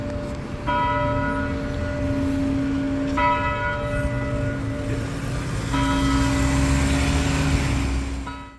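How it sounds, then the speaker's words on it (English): A courthouse bell tower rings, three strong bell strikes spaced a few seconds apart, each leaving a long humming ring, heard outdoors over a low steady rumble of traffic or engines. "They still had a functioning bell tower at the courthouse."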